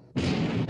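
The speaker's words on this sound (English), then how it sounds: "All turrets ready to open fire, sir." Warship turret guns open fire in a war-film naval battle, a single loud, close broadside blast that booms and rolls on for most of a second, with a second surge near the end.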